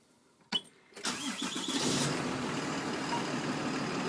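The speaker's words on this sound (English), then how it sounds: "First thing you want to do is start up the engine." A school bus engine starting inside the cab: a click and brief cranking, then the diesel catches and settles into a steady, loud idle rumble that continues to the end, with no talking.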